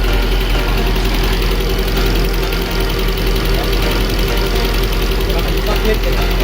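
Overhauled Nissan SR20 car engine idling steadily just after starting, with a continuous loud rumble and a faint ticking, likely tappet noise, running throughout.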